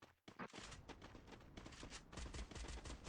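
Rapid gunfire from a Free Fire match, sniper shots included, comes as a dense run of sharp reports after a brief quiet gap near the start, staying loud and busy to the end.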